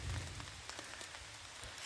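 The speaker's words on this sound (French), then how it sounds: "Ça pleut." Rain beginning to fall outdoors near mountains, a soft, even patter of drops over a low constant hiss, faint and steady with no voices.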